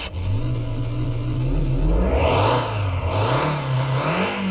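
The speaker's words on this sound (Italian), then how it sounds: "accendiamo l'auto." Car engine in Car Mechanic Simulator 2021 starting, then revving up and down with a loud, rising and falling drone and whirring, close and alone.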